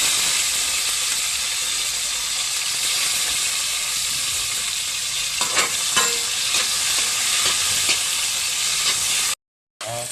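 Tomatoes hit browned garlic in a hot pan, a loud steady sizzle and hiss with a few clattering stirs, cut off by a brief silence near the end.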